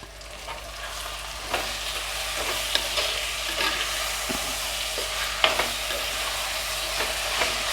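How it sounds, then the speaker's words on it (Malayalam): Tomatoes frying in a pan with softened sautéed onions, a steady close sizzle broken by scattered stirring clicks and scrapes, with no talk. "ഇനി ഇതിലേക്ക് നമുക്ക് തക്കാളി ആഡ് ചെയ്ത് കൊടുക്കാം കേട്ടോ. തക്കാളി ആഡ് ചെയ്യാണ്."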